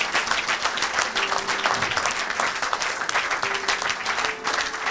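A congregation at a church service applauds and cheers, dense and continuous clapping filling the room at steady loudness with crowd voices mixed in.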